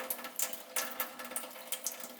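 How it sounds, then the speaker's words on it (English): Liquid purifier runs from the tap of a Pinter home brewing keg, a splashy trickle of water with irregular bursts and drips, close and steady without talk. "I'm going to set it to off so that we can then run this tap through."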